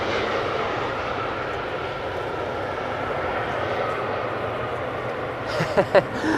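A KLM airliner arrives at Amsterdam Schiphol Airport, its engines a steady broad roar that holds throughout, with a few short sharp knocks near the end.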